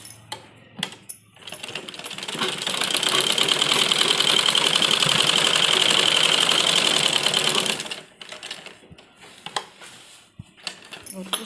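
A sewing machine runs a steady, continuous double-stitching pass on a men's kurta for about six seconds. Clicks and handling noises come before and after the run, and no one speaks.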